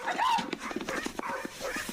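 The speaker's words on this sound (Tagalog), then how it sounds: "Chuchu! Kinky! Bakit tahol kayo ng Ma!" Several dogs bark at an intruder who has entered through a gate, sharp barks repeating in quick bursts over a noisy outdoor scene, with some shouting voices mixed in.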